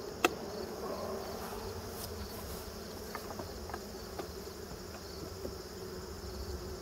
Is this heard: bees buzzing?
yes